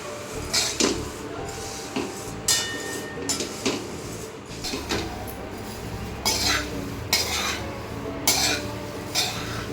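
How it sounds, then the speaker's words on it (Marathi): A kilo of flattened rice (poha) is dry-roasted in a large wok, with a spatula scraping and stirring in repeated close, rhythmic strokes and light metallic clinks over the dry flakes. "आता हे पोहे मी छान कुरकुरीत होईपर्यंत भाजून घेणार आहे"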